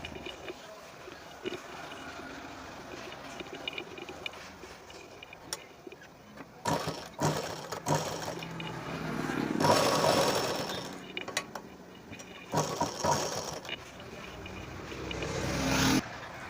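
A sewing machine stitches the lining of a Punjabi dress, its motor running in steady bursts that rise and fall in loudness, with short pauses between runs and louder stretches toward the end.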